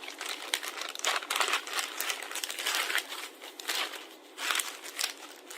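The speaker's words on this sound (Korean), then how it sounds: "이렇게 비닐을 밑에다가 이렇게 깔고" A plastic sheet is spread out across a dining table before cutting scone dough, giving a steady, close crinkling and crackling that rises and falls in bursts for several seconds with no talk over it.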